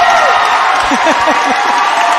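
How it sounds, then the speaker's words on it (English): Crowd cheering and applauding at an under-17 men's netball championship quarterfinal, a sustained roar of voices and clapping throughout under a commentator's voice. "As the crowd goes wild."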